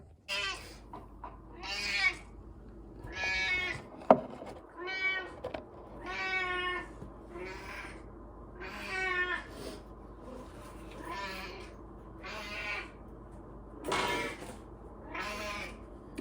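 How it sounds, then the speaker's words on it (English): A hungry house cat meows repeatedly for food indoors, about a dozen drawn-out, fairly close cries at irregular intervals, with a brief knock partway through. "This is how she meows."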